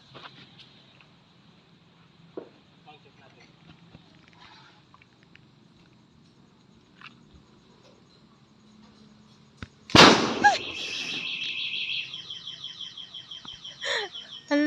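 Homemade PVC boga cannon fired with a double-lighter igniter: quiet handling noises and clicks, then one loud sharp blast followed by a sustained ringing roar and a few later pops.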